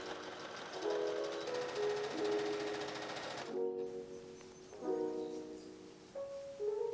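A sewing machine runs in several bursts, stitching across an elastic casing on a bodice made from a bedsheet, its rapid needle chatter close and steady with short pauses between runs.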